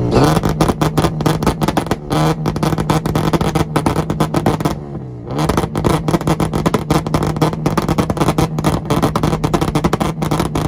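A newer black Honda Civic revs hard in a street rev battle, loud and close, with sustained high-rpm engine roar, rapid popping pulses and a brief dip before climbing again, no talking over it.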